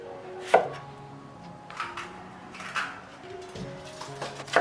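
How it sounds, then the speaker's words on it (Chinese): A knife chops pineapple into chunks and halves strawberries on a board. The cuts come as a few sparse, quiet thuds spaced about a second apart against faint room sound. "菠萝切成块， 草莓对半切开"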